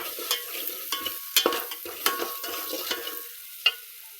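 A quiet oily sizzle of red chilli spice paste frying in oil runs under repeated scrapes and taps of a spoon stirring in a pan, with no voices.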